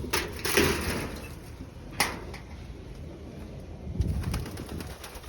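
Pigeons in a village loft give low soft coos amid scattered wing flutters and rustling, with a couple of sharper knocks, moderately close and unaccompanied by talk.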